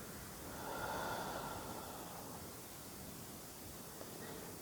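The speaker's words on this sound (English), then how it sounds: "Taking a breath in" A single slow, deep breath drawn in and let out during a calm meditation, a soft airy rush that swells early and then fades into a quiet, steady hiss.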